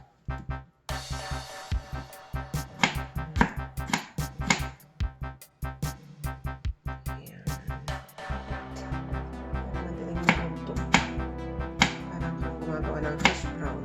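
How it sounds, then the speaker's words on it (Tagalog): A knife chops potatoes into small cubes on a board, giving a quick, irregular series of close, sharp taps with brief pauses, louder and denser toward the end. "So, hiwain ng maliliit na cubes ang patatas."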